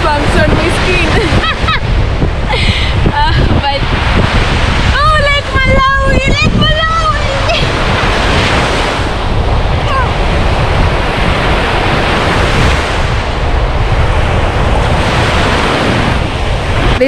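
Wind-driven waves crash and wash along the Lake Malawi shore in a constant roar, loud and close, with heavy wind buffeting and a person talking over it.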